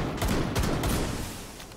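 Gunfire in Rainbow Six Siege, a short flurry of dull booming shots, loud and heavy in the low end, fading out over under two seconds.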